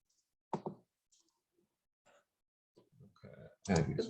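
Computer mouse clicks, a few sharp close taps scattered among faint background sounds and brief bits of speech.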